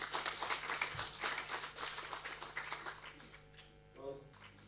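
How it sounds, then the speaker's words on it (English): An audience at a dissemination event keynote gives a round of applause, steady dense clapping, moderately distant, thinning toward the end as a voice briefly speaks. "let me ask the members here today to welcome you with a round of applause"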